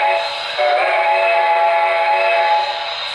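Whistle of an HO scale Broadway Limited Pennsylvania T-1 model steam locomotive with Paragon 2 sound: one long, steady, loud chime-like blast over a background hiss, with no voices.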